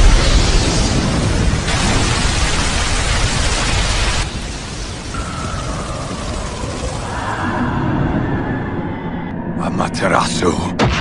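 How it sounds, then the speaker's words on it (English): A fire-style fireball blast from an Itachi versus Sasuke fight in the Naruto anime, heard as a loud, sustained roaring whoosh that thins out over several seconds before ending in crackling bursts, with a voice over it. "Fire style! Fireball Jutsu!"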